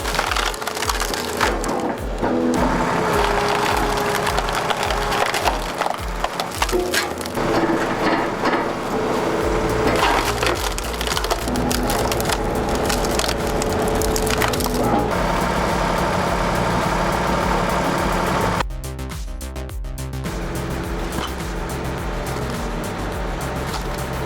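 A large whole-tree wood chipper shreds a log with a loud, continuous grinding roar and splintering crackle, the engine droning heavily throughout and shifting pitch as the wood feeds through.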